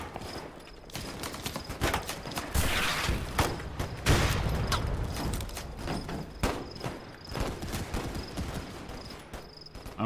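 Rifle gunfire in the WW1 video game Holdfast: Frontlines, heard as repeated sharp shots and bursts over the continuous bustle of a battlefield, with some shots near and others farther off.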